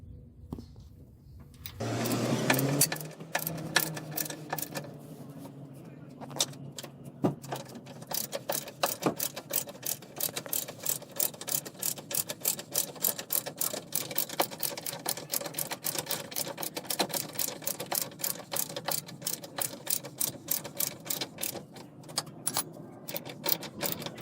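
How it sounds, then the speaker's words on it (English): A 17mm socket on a ratchet undoing a wishbone bolt on a Toyota Yaris, a long run of rapid clicking pawl strokes coming in repeated bursts, close and fairly faint. "I'm going to use a 17mm socket to undo this bolt."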